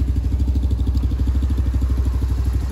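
A Pentora 150 Chinese ATV engine idles close by with a steady, rapid, chugging pulse and a faint mechanical clatter, even and unbroken throughout, with no voices.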